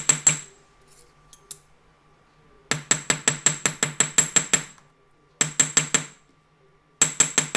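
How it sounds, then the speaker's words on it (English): A hammer strikes annealed sheet metal being shaped into a leaf pendant: bright, ringing metallic taps in fast, even runs of several blows separated by short pauses, close and loud with no talking. "you're ready to hammer again"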